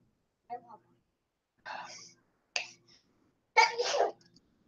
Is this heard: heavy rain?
no